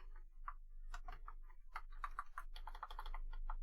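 Keys on a computer keyboard clatter in a quick, uneven run of light clicks, faint and close, with brief gaps between bursts and no voices.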